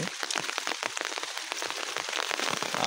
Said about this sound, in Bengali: আর প্রচণ্ড পরিমাণ বৃষ্টি হইতেছে।